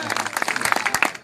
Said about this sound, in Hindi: हाँ एक बार जोरदार तालियों से आदेशित करें मुझे के नाम।